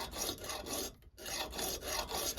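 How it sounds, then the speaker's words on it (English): A hand saw rasps back and forth through wood in quick, even strokes while cutting a crossbow roller nut, pausing briefly midway before the rhythmic cutting resumes. "So let's start sawing."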